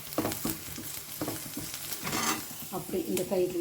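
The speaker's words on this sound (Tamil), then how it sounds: "எண்ணெய் ஊற்றி கடுகு, உளுந்து, கடலைப்பருப்பு, பச்சை மிளகாய், கருவேப்பிலை போட்டு வதக்கினிருக்கோம்" Mustard seeds, urad dal, chana dal, green chillies and curry leaves sizzle in hot oil while a spoon stirs and scrapes the pan in quick bursts, close up, with brief talk over it.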